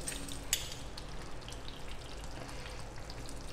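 Butter sizzling as it melts on top of a finished pav bhaji in the pan, a steady soft frying crackle with scattered light pops, close and fairly quiet, with no voices.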